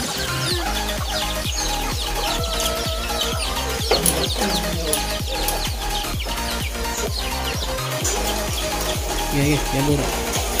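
Chickens cluck repeatedly nearby in a busy, overlapping chorus, with other background sounds mixed in.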